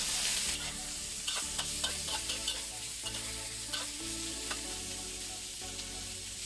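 Sausages and peppers fry in a pan over medium-high heat, a loud, constant sizzle broken by frequent stirring knocks and scrapes, with no talking.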